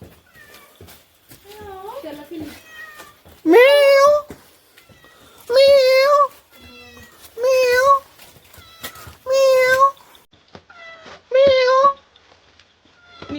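Cats meow loudly and repeatedly near the listener, drawn-out calls coming about every two seconds, with quieter voices chattering between the meows.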